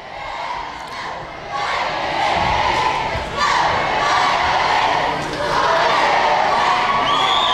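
A crowd at a high school boys basketball game, Minneapolis, Kansas against Beloit, cheers and shouts loudly with cheerleaders while play runs late in the game. The roar swells in waves and never stops.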